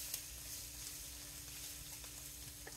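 Vegetables for ramen sautéing in a pan give a faint, steady sizzle with a low hum beneath and a few soft crackles, heard close and without talk.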